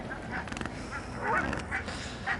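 A flock of ducks and other waterfowl on an island gives off scattered quacks and honks at a moderate distance, rising and falling in irregular bursts over soft outdoor background noise.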